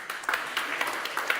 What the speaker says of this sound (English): a big round of applause for the participants